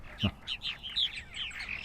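Purple martins from a flock nesting in a farm yard give a quick series of faint, gurgling chirps and warbles, one sharper note standing out at the start.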